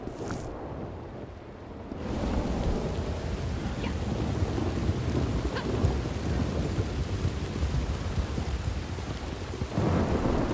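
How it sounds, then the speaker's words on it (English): A thunderstorm in Red Dead Redemption 2 brings heavy, steady rain, with a loud, close thunder crack at the start and more rumbles rolling on under the downpour. "Darn storm."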